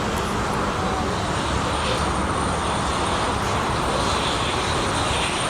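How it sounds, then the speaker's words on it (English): Air Dolomiti jet airliner at Frankfurt airport, a loud, steady broadband engine roar with constant hiss filling the entire stretch, close by and without pause. "Here we got the AirDolomiti jet."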